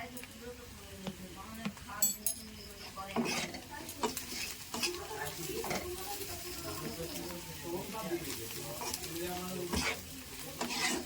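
Chilli and cumin powder being sautéed and stirred in a pan in a village kitchen, a low sizzle under repeated scraping and clattering of a spoon against metal, with speech heard over it.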